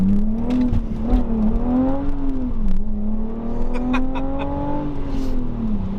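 A BMW Z4 driving on a wet road, its engine droning steadily close up with the pitch rising and falling gently as it pulls along, a continuous, fairly loud hum that stays present throughout.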